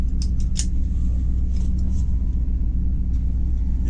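A square-body ramp truck with a small-block Chevy V8 pulls away, its engine a steady, close low rumble throughout, with a few brief higher clanks and rattles early on.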